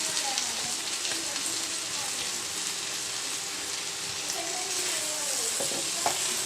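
Fried okra stirred into sizzling masala in a pan, a continuous close hiss of frying with scraping stirs throughout and a few louder clanks near the end.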